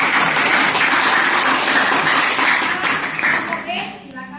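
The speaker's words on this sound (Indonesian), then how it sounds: "tepuk tangan dulu untuk kelompok A" A classroom of students applauds a student presentation group, a loud burst of clapping mixed with children's voices that fades out, with a brief voice near the close.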